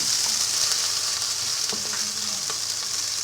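Garlic-ginger paste frying in a pan for a tangy-sweet moong masoor dal, a steady broadband sizzle with a few faint stirring clicks, close and continuous with no talking.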